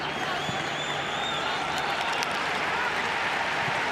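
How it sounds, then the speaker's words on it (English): A stadium crowd at a Somalia versus Oman FIFA Arab Cup 2021 football match keeps up a steady, distant wash of applause and murmur, with a commentator talking faintly over it. "the crowd in the background, they're just happy with a little bit of possession here, Nick"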